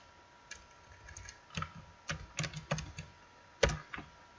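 Someone types on a computer keyboard nearby, producing a short, irregular run of crisp key clicks and taps, some clustered and one louder strike near the end, over a quiet background.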